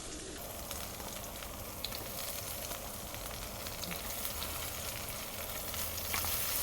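Onion hits hot oil with kasuri methi for a kebab gravy, producing a faint, even hiss of frying that holds steady throughout with no voices.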